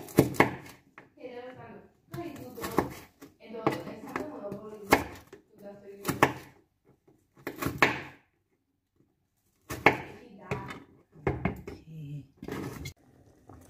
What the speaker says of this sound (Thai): เดี๋ยวหั่นพริกใส่นิดนึงเนาะก็คือเพิ่มรสชาติ